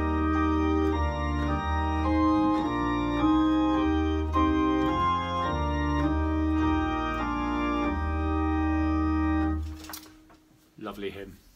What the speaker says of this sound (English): Lead Us, Heavenly Father, Lead Us, and that sounds like this.